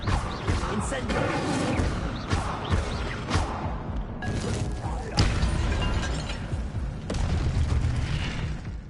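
Casting the Incendio fire spell in a Hogwarts video game sets off loud whooshing bursts and heavy booms amid clattering game effects, with a voice talking over them.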